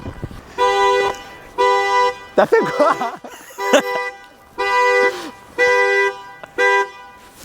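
A Volvo car alarm honks in loud, evenly spaced horn blasts, about six pulses with a short break in the middle, while a person speaks briefly between them.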